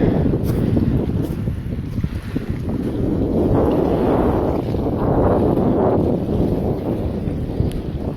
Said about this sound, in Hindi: हवा भी बहुत तेज चल रही है